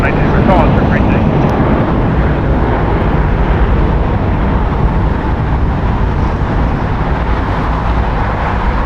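Jet engine roar from an American Airlines Airbus A321 at a large airport, a loud, steady, broadband rumble filling the whole clip without letup, with a faint voice partly buried underneath.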